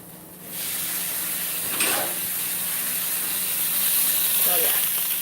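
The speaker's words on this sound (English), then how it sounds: "I add a little bit of water into the pan and I put the lid on it." Water poured into a hot pan of frying onions and bell peppers sets off a sudden loud hiss and sizzle that keeps going steadily, with a faint clatter near the end as the lid goes on.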